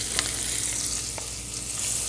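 Onions fry in butter and olive oil in a skillet with a dense, continuous sizzle, broken by a few faint clicks as they are stirred.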